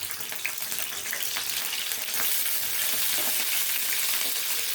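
Slit green chillies crackle in a generous amount of hot oil, a loud dense hiss of frying with faint irregular pops throughout.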